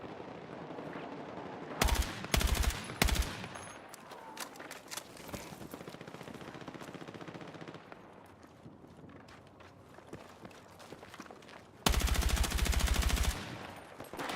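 Rapid bursts of M433 rifle fire in the Battlefield 6 video game, two loud clusters early on and a longer sustained burst near the end, with quieter in-game ambience between them.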